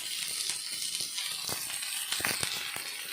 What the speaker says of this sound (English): Saute them nicely till they become brown.